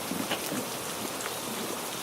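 Rain falling steadily on Beausoleil Island, a national park campsite near a camp kitchen, with a soft continuous hiss broken by scattered drops landing on surfaces close by.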